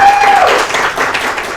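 A short burst of applause from a small group for a police cyber unit guest on an Indonesian podcast, brisk clapping fading slightly toward the end.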